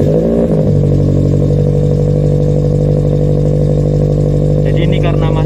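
A Toyota GT86 engine idles high during a cold start, a loud steady droning hum after an initial rough catch, with someone talking over it toward the end.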